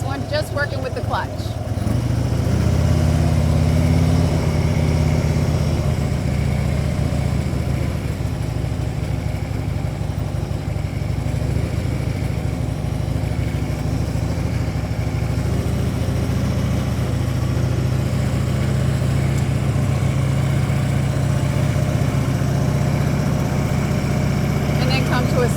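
A motorcycle engine runs steadily at a raised idle during slow-ride clutch practice, a continuous low drone held for the whole stretch with little change in pitch.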